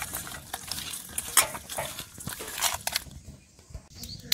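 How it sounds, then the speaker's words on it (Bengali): Koi fish are mixed by hand with turmeric, chili powder and salt, making soft, close, wet squelching and rubbing sounds in irregular bursts with a brief quieter pause near the end. "এখন আমি ভালো করে হাত দিয়ে মাখাই নিব।"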